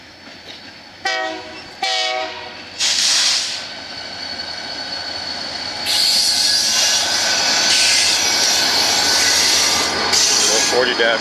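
A pair of BNSF SD40-2 diesel locomotives rolls the Sidney local north out of Glendive, sounding several loud horn blasts before a heavy rumble builds and holds as the train passes close by.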